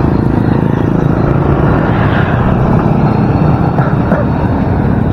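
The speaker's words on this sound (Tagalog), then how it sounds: "Alapit ko lang yung tricycle." A Filipino tricycle engine runs steadily and loudly up close as it is moved nearer, a constant rough drone with no break.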